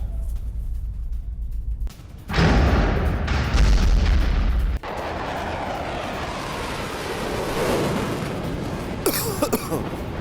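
Explosions from Russian airstrikes in Syria: a heavy, deep boom rolls in after a quieter start, followed by a sustained rumbling roar and debris-like noise, loud and distant-sounding, with no speech.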